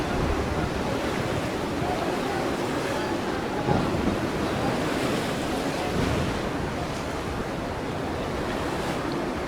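Ocean waves surge and wash continuously in the naval sailing game Naval Action, a steady broadband roar of surf with wind noise and no voices, holding even loudness throughout.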